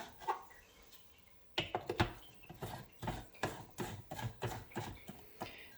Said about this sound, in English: I'm just going to tighten this really tight so it doesn't loosen up whilst it's blending